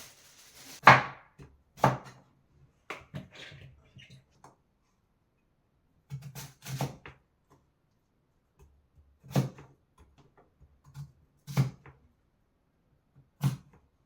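Coco yam being cut, heard as a series of sharp, isolated knife chops and thuds spaced out at irregular intervals, close and fairly quiet against near silence.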